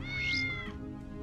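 A single cat meow from the video game Tales of the Neon Sea, rising then falling, moderately faint over a low ambient hum.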